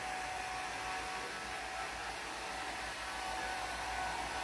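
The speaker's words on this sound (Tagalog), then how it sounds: "nag-hair dryer ang ate," A hair dryer runs continuously at close range, a steady even whirring roar with no breaks or changes in pitch.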